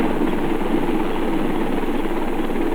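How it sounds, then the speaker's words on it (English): A helicopter in flight over remote wilderness, a steady droning rotor and engine roar holding constant and fairly loud with no voices over it. "Helicopter!"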